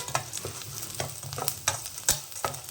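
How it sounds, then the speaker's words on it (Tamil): Onions sizzle and fry in a pan on a low flame, browning to golden. A steady crackle is broken by regular stirring scrapes, close and fairly quiet. "இது நல்லா வந்து நல்லா பொன்னிறமாக வர அளவுக்கு வறுத்துக்கோங்க அடுப்பை சிம்மில் வச்சு"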